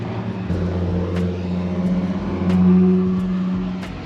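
A BMW E46 engine cruising at a steady moderate pace around a race track, a continuous low drone that swells slightly midway, with no talk.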